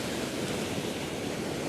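Sea waves wash steadily onto a beach in Mersin, the water still murky after storms, forming a continuous close rushing surf with some wind noise and no voices.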